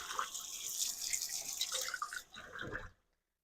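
Water runs and splashes inside an electric hot pot being rinsed out at a sink, a steady uneven trickle with clinks that stops abruptly into silence near the end.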